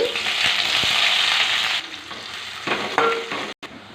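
Onions hit hot oil with cumin and dried red chillies, letting out a loud, bright sizzle that holds steady before fading into quieter crackling and a few clinks of stirring.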